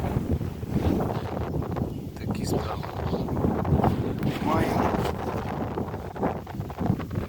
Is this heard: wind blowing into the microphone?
yes